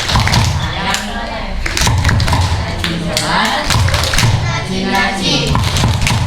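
Children clap in a steady, rhythmic pattern while chanting together during a children's Islamic study gathering, with loud, close claps and thumps running under continuous young voices.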